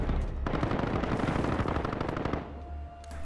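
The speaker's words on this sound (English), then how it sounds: "Then a small gunfight happened." Rapid automatic gunfire rattles in a loud, sustained burst during a gunfight in the video game Call of Duty Warzone. The shooting comes close and continuous, then drops off, with a few sharper shots near the end.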